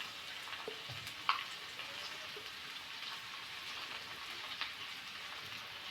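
Onions frying in coconut oil in a pan, a faint, even crackle and sizzle throughout with one or two brief clicks, no talking.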